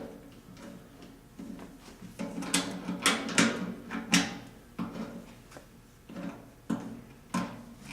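Metal tool work on a steam valve, pliers or a pipe wrench loosening a fitting: a series of sharp clicks, knocks and ratcheting scrapes in irregular bursts, close up, with no speech.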